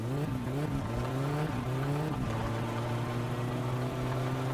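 A car on worn tires slides across dirt in My Summer Car, the engine droning at steady revs under a rough scrubbing hiss, with a brief dip and rise in pitch midway.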